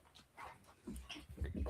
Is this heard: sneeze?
no